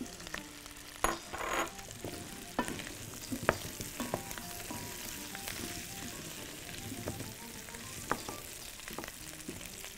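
Garlic and onion frying in a pan, giving a steady close sizzle with scattered pops and crackles and a few stirring clatters of a utensil, with no talking.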